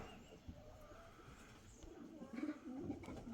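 Soft, low pigeon cooing repeats in a quiet room, faint and close, with a few rustles and small background noises.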